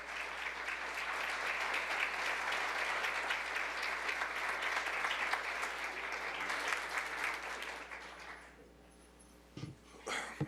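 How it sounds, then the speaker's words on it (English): Audience at a disability employment awareness celebration applauds award recipients, a sustained dense clapping that fades out near the end, leaving a few faint scattered sounds. "Let's give them a round of applause."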